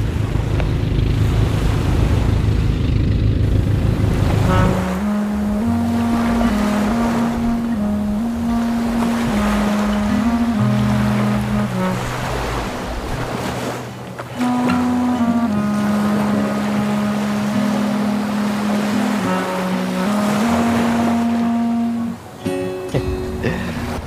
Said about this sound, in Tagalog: Kami nadaan bangka, oh.